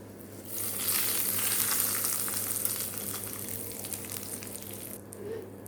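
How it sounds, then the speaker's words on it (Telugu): Hot tempering poured into mint chutney, a loud burst of sizzling that swells quickly and then fades gradually over a few seconds, close up and without speech. "మనం చేసుకున్న పుదీనా పచ్చడిలో వేసుకుందామా మరి."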